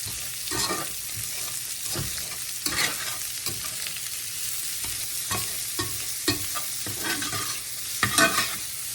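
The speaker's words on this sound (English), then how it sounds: "I'm going to add to that 1/2 cup of chopped onion and 1/3 cup of chopped green pepper. I'm going to let those saute just a little bit." Chopped onion and green pepper sauté for Mexican rice, making a continuous close sizzle broken by repeated stirring scrapes and clacks of a utensil against the pan.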